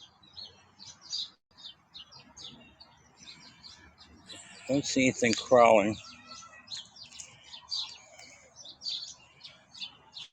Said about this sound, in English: And I hear birds.